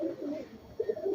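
Pigeons coo close by, two soft, throaty rolling phrases separated by a short gap.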